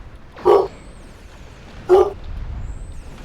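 Dog giving two sharp, separate barks about a second and a half apart, moderately close, over a quiet background with low rumble; no talk.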